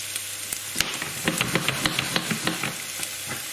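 Onions fry in oil in a pan while they brown, with a steady sizzle broken by a quick series of sharp crackles and pops at close range.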